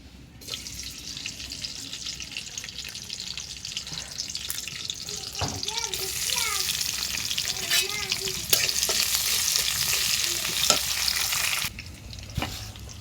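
Tilapia fish pieces drop into a hot pan and sizzle loudly, with bursts of crackling spatter and some stirring and clinks over a steady frying hiss, rising in intensity after the first few seconds.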